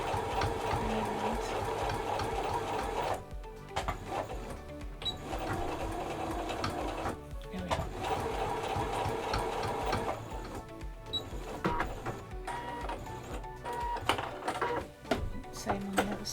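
A sewing machine back stitches a waterproof reusable face mask, its needle chattering in rapid rhythmic bursts close by. Brief pauses break the stitching as the fabric is repositioned, and the stitching then resumes.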